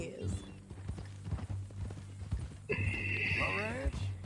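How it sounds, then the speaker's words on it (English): A horse's hooves clip-clop steadily, then it lets out a loud, wavering neigh near the end, with people talking over and around it. "That new horse?"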